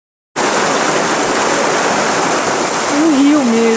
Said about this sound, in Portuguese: Um rio mesmo, ó, que passa por aqui.